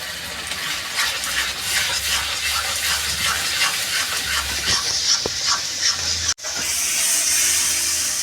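Tomato paste goes into a pan of frying onion, ginger, garlic and spices, setting off a loud, steady sizzle and hiss, with stirring scrapes, a brief dropout near the end, then the frying resumes.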